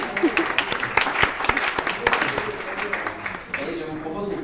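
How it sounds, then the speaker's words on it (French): Audience applause at a round-table session of an e-health conference in Lille, welcoming a speaker: a dense, steady patter of many hands clapping at moderate distance, running throughout with a voice briefly audible over it. "Vous pouvez l'applaudir."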